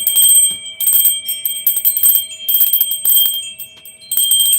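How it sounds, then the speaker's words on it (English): A small hand bell or chime rings out in a few bright, sustained strikes, each tone lingering and ringing high before fading, with brief gaps between rings and no talking. "even I've got a bell here"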